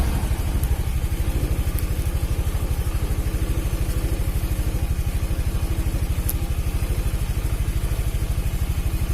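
A carbureted Honda Vario 110 motorcycle engine runs steadily at idle, a close, loud, even throbbing putter with mechanical clatter, continuous throughout with no voices.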